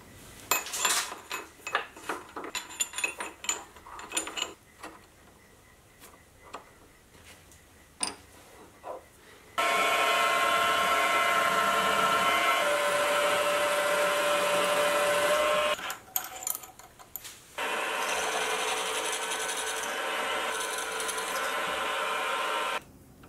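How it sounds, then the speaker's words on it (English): A milling machine drills clamping holes in a metal ring, beginning with scattered clanks and tool knocks, then giving two long, loud, continuous stretches of drilling noise split by a short pause. "The next thing I'll drill will be the clamping holes for the ring."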